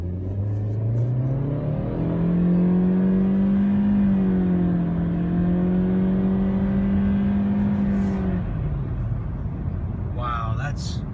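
Turbocharged 2016 Honda Civic engine revving on a test drive, a loud steady drone that climbs, holds high for several seconds, then drops back to idle, with a brief clatter near the end.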